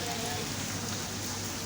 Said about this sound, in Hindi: अब बादल हो चुके थे और बारिश बहुत तेज़ होने लगी थी।